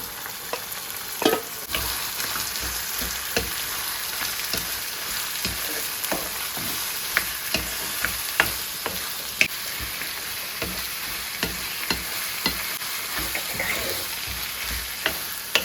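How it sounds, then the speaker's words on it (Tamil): Squid sizzling and frying in a spice tempering with tomato for a drumstick curry, a steady close crackle broken by repeated sharp stirring clacks of a spoon in the pan, with no talk. "இதுக்குள்ள தாளியத்துக்குள்ள கனவாய் சேர்ப்போம்"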